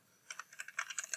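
Quick bursts of typing on a computer keyboard while entering a package name in a Java project, a dozen or so light clicking keystrokes close up after a brief quiet start, no talking.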